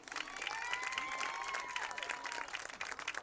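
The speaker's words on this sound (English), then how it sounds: "Please give our senior cheerleaders a round of applause as they exit the field." Applause from a crowd in a high-school football stadium, as senior cheerleaders exit the field, a steady spread of clapping and light cheering heard at a distance, fairly faint, with a loudspeaker announcement ringing over it.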